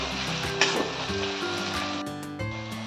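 Spices sizzling and frying in a pan as they are stirred for Bengali rui kalia, a steady close hiss with a few louder spits and scrapes, no voices.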